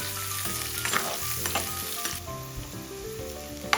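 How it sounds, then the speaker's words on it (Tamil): Steady crackling sizzle of onions frying golden in hot oil, with occasional scraping stirs and a louder clatter near the end; no voices. "இப்ப பாருங்க இந்த வெங்காயம் நல்லா பொன்னிறமா வதங்கிட்டுது"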